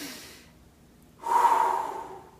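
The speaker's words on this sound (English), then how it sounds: "This is the yogic practice of breathing" Yogic belly breathing: a soft faint breath, a brief pause, then a stronger, louder exhale rushing out close by, heard alone without speech.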